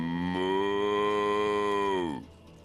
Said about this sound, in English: Moo! Isn't he adorable?